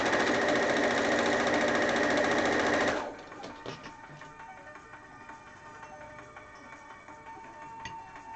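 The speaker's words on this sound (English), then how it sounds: "it doesn't catch right away sometimes with the sewing machine" A sewing machine stitching fabric runs loud and steady for about three seconds, its rapid mechanical chatter then stopping abruptly and leaving only quiet room noise.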